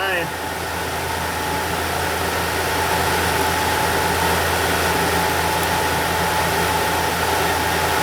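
A Toyota Tacoma V6 idles steadily with a low, even engine drone and broadband hum, holding a constant level throughout with no talk over it.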